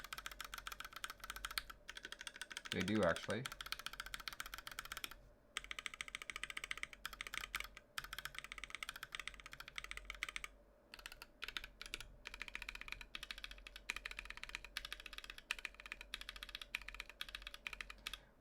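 Dense, continuous clacking of keys rattles along as someone types across the edge keys of an IDOBAO ID80 hotswap 75% mechanical keyboard, close and steady, with a brief spoken remark early on.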